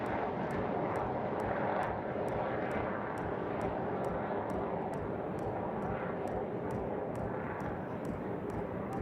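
Propeller aircraft flying an aerobatic display at Aero India air show at Yelahanka Air Force Station, a steady broad engine roar held throughout at moderate distance, with regular faint ticking above it.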